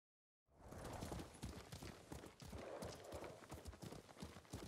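Horse hooves clip-clop at a steady trot in the Ghost of Tsushima video game, a continuous close rhythm of hoof falls with no talk over it.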